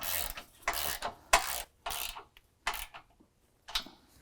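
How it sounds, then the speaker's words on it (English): A hand ratchet tightening rear bumper bolts on a Jeep JL, heard in about seven short bursts of rapid clicking with quiet gaps between, close and crisp. "we'll go ahead and tighten this hardware up"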